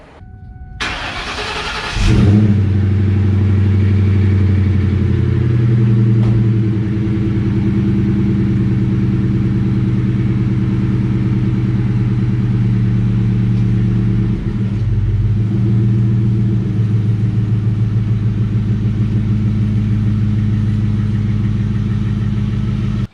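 A New Edge Ford Mustang's engine cranks and fires up close by, then settles into a loud, steady, deep idle rumble that continues with only slight changes as the car is pulled out.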